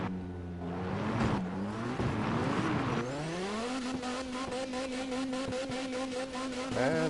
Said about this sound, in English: it's been a while since I actually legit drifted the M5